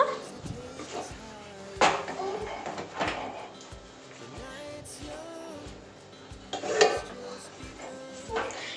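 Bhaji batter being mixed in a bowl, with clattering and scraping of a spoon against the bowl, some louder knocks and bursts among quieter stretches, and a voice talking at times.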